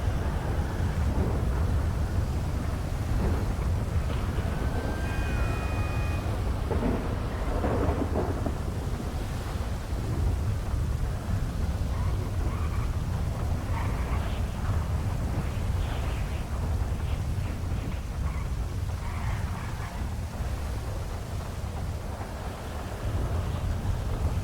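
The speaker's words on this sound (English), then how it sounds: "The rain is so loud." A heavy thunderstorm in a video game, heard from the top of Maze Bank, pours on: dense, loud rain hiss with deep rolling thunder rumbling throughout, steady and enveloping.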